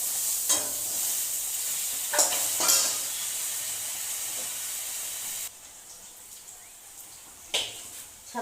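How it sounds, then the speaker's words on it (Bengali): Potatoes fry in a pan in a home kitchen, a steady close sizzle with a few sharper bursts of spitting and stirring, continuing alone with no talk. "তা আলুটা ভেজে নিচ্ছি"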